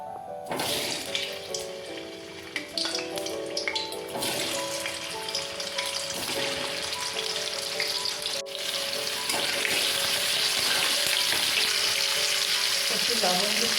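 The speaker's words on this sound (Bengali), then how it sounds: "প্রথমে আমি তেল দিয়ে দিলাম, এবার আলুগুলো ভেজে নেব।" Potatoes frying in oil for aloo dum, a dense, loud crackling sizzle that runs unbroken and intensifies in the second half, with no talking.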